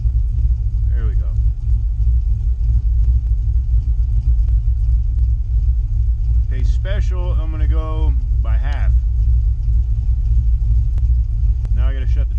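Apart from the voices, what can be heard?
pickup truck engine idling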